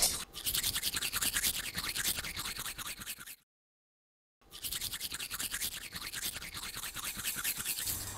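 Toothbrush scrubbing teeth in steady rapid strokes, close and loud, with a second of silence partway through before the brushing resumes.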